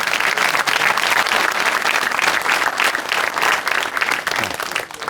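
A comedy show audience at the Heydar Aliyev Palace claps steadily, a dense, loud sustained round of applause with no voices over it.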